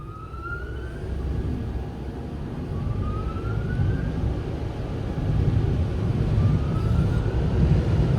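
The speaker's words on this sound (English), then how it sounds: "The blowers are doing a crappy job." Car wash dryer blowers, Tech 21 units in the Water Wizard 2.0 tunnel at Sun Lover car wash in Slidell, Louisiana, drying a parked car: a loud, steady roar of rushing air with faint whining tones that swell slightly, no talking.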